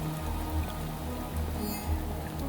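Rain falling in the video game Shadows of Doubt, a soft steady patter of drops on surfaces with a low pulsing hum beneath, faint and continuous.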